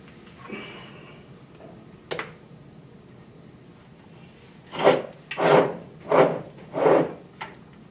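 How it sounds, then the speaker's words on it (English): A screwdriver pries at an insert set into a router table, first with a couple of light scrapes and taps, then four firm grinding scrapes in a row near the end. "I'm going to use a screwdriver or something to pop it loose."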